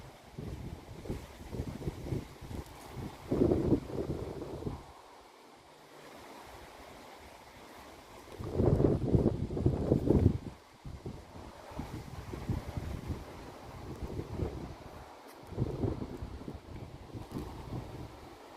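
Gusty wind buffeting a microphone outdoors beside a country lane, swelling into loud rumbling bursts and then easing to a steady low roar, with no talking.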